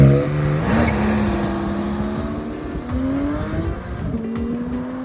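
A Porsche 718 Cayman GTS 4.0 with PDK gearbox revs loud and close, its engine note climbing through several rising sweeps with quick shifts between them.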